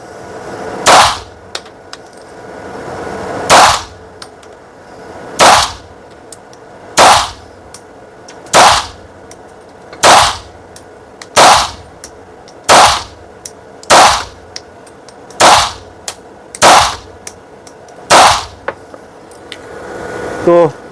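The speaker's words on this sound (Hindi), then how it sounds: "इस टाइम मैं थोड़ा ऊपर करके फायर करता हूँ" A .32 Kiehberg PPZ pistol emptying a full magazine outdoors, about a dozen sharp, loud single shots spaced evenly roughly every one and a half seconds, with no talk between them.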